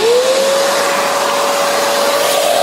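A vacuum cleaner runs loud and close while cleaning out a Mazzer Mini coffee grinder, a steady whining motor tone with hissing airflow, no talking.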